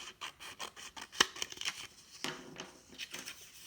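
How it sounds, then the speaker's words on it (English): A pair of scissors cuts along the fold line of a sheet of folded paper, a run of short crisp snips and rustles, close and fairly quiet, with one sharper clip partway through. "take your scissors and cut right along that fold line."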